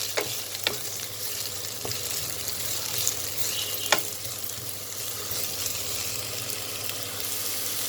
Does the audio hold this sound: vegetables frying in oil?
yes